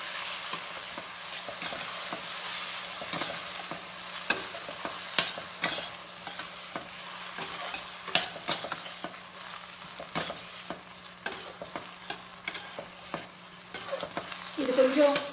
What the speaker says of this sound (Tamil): அதை போட்டு கொஞ்சம் வறுக்கலாம்.